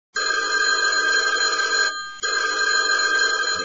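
A telephone bell rings on and on with no answer, near and loud, in two long bursts separated by a brief pause.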